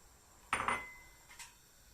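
A spoon knocks against a pot while aşure with apricots is stirred, two or three quiet clinks close by in an otherwise still kitchen.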